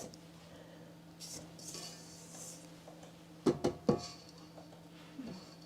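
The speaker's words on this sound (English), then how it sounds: "And start mixing. just scrape the sides a little bit." A spoon or spatula scrapes and clinks against a mixing bowl while hot cross bun dough is mixed, quiet and close, with a few sharper knocks near the end over a steady low hum.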